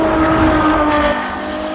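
A 2014 Ferrari F12 Berlinetta's engine roars loudly and steadily while driving, a brief close-up burst that eases slightly toward the end.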